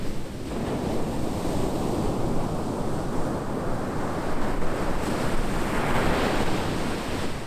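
Continuous roar of chilly Pacific surf breaking on a beach near Redwood National Park, with steady wind noise buffeting the microphone.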